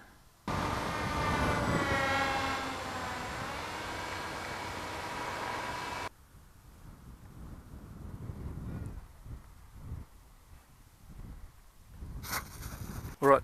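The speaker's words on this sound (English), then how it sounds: "New motor mounts are nice. Twin motors sound great." Twin electric motors on a Harrier S1100 RC airplane run at a steady, loud, close whine with tonal harmonics for several seconds, then cut off abruptly, leaving quieter wind and handling noises.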